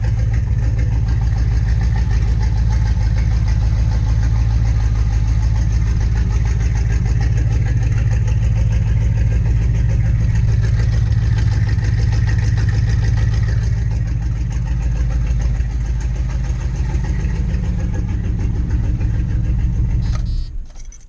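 A Chevrolet C10 Squarebody pickup from the 1973–87 era, with a shortened exhaust, idles loudly and steadily up close right after a rough start. The rumble holds for about twenty seconds before it cuts off, with no talk.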